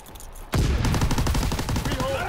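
Rapid gunfire erupts in a Call of Duty WWII beta Domination match, a burst of close, sharp shots in quick succession after a short quiet lead-in, continuing steadily with faint game sounds behind.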